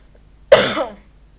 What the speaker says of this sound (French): Une toux comme ça.